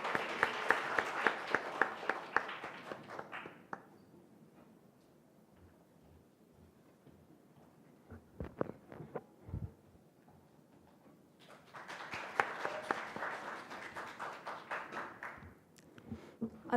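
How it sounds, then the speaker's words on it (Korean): Audience applause welcoming a student speech at a youth speech contest comes in two bursts of clapping, one at the start and one later, separated by a quiet gap with a few scattered taps and knocks. "배서연 학생의 연설 박수로 맞아 주십시오."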